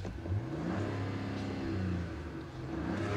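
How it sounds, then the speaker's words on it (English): 2024 Dodge Charger with the twin-turbo Hurricane inline-six revving in a steady, fairly quiet rise and fall, heard from nearby with no talking. "Rev it again."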